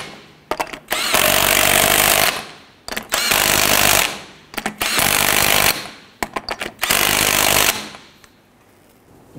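A power tool tightens the front wheel lug nuts on a 1997-2006 Jeep Wrangler during fender replacement. Four loud, close bursts of rattling whir come in quick succession, each preceded by short stuttering blips, with brief pauses between.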